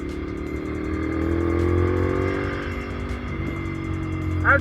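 While overtaking, a 2010 Ducati Monster 696 motorcycle gives a sustained, moderately loud engine hum that swells slightly in pitch mid-pass, then eases off, with a brief higher whine at the end.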